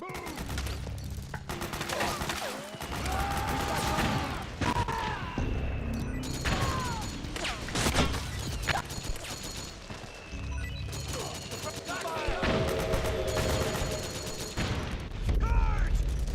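Dense gunfire from the Metal Gear Solid 4 video game, with rapid automatic bursts and clattering mechanical shots filling the scene continuously, alongside shouted battle voices and crashes.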